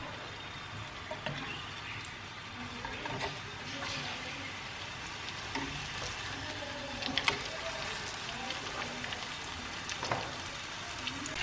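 Vegetarian taquitos shallow frying in a pan of oil, with a steady soft sizzle and scattered crackles and pops throughout.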